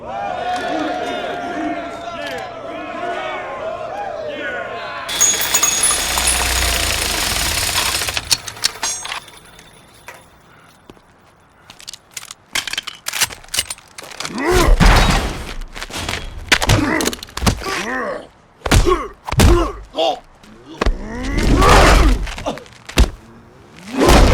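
Bursts of video game gunfire from Saints Row 2, loud rapid volleys and heavy thuds clustered in the second half, after a stretch of noisy rumble with voices talking early on.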